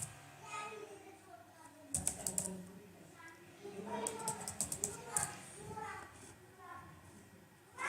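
Computer keyboard typing in a short burst of quick key clicks, then a second burst of several fast clicks, under someone talking nearby.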